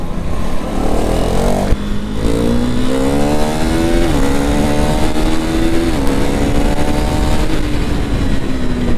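A fully faired sports motorcycle at a drag race, its engine revving hard through rising and dropping pitch with gear changes as it accelerates past, loud and close over background crowd and traffic noise.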